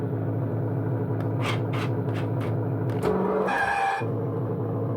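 A 2005 New Bright 1/6 scale Cadillac Escalade boombox RC car, 12-volt, runs with a steady, close electric motor whine and rumble, joined by a series of rapid clicks and a brief higher whirring burst near the end.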